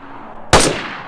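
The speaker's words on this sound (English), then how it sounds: "here's another gunshot at a few kilometers away from everything in the middle of the ocean" A single gunshot is fired in DayZ far out in the open ocean. It is one sharp, broadband crack heard from a distance over a steady ambient hiss, and its tail fades quickly with no echo.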